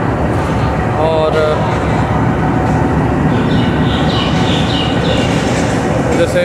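The Jaffar Express departs a rain-soaked Lahore Junction in the monsoon, with a steady loud rumble of rolling carriages and track noise and someone talking over it throughout.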